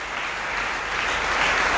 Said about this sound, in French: Ou même applaudir mon Dieu.